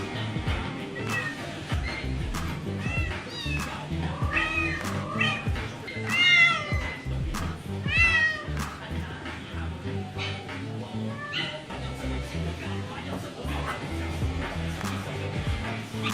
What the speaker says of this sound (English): This lucrative kitten escapes her cage to play with her puppy friend.